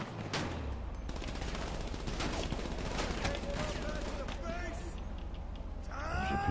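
Rapid gunfire bursts in the GTA 5 video game, a dense run of shots over a constant noisy game backdrop, with a voice speaking over it.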